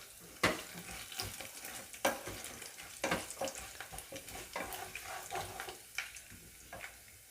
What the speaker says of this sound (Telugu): సో 2 ఎండుమిరపకాయలు ఇలా కట్ చేసి వేసుకుంటున్నానండి.